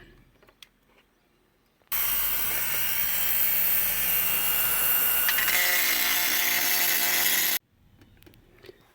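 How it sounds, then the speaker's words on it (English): A Dremel rotary tool whines loudly and steadily for about five and a half seconds, close up, as it enlarges a hole in a reproduction part on a Jeep XJ door, with quiet handling noises before and after. "I had to get out the Dremel tool, and I'm going to waddle that out right there"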